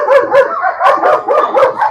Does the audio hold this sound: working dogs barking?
yes